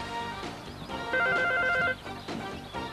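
A telephone rings in a home, a bright trilling bell burst repeating in short regular pulses, fairly close, with background noise around it and no talk.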